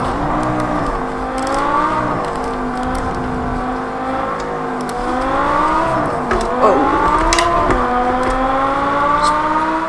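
A Lamborghini Sesto Elemento's V10 engine revs in Project Cars 2 on the Nürburgring Nordschleife, a loud, close, sustained howl rising and falling through gear changes with brief upshift dips.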